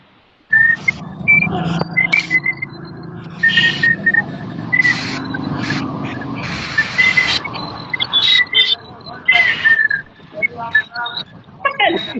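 A person whistles short, high, clear notes in quick bursts, close by, mixed with talking and background noise.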